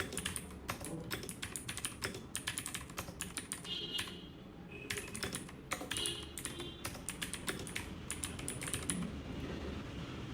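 Fingers tap rapidly on a computer keyboard, a steady stream of close, quiet key clicks with brief pauses, as text is typed out with no talking.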